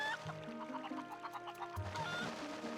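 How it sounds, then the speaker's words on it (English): A chicken clucks in a series of short, rapid bursts over quiet game music in Twilight Princess HD, where the player has turned into the chicken; moderately close and fairly faint. "if you hit a chicken enough times in Twilight Princess, you become chicken"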